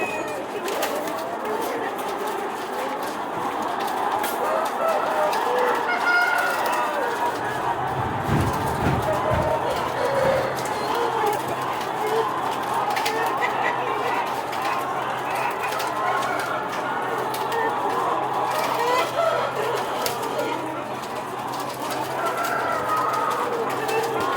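Chickens being fed grain on a poultry farm: soft, continuous clucking and cooing from a flock, with a short rustling clatter in the middle and a low hum underneath, while someone talks nearby.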